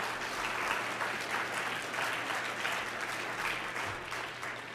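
Audience applause at an evening fellows' event before a keynote address, a dense, steady wash of clapping from a sizable crowd that holds evenly throughout without voices.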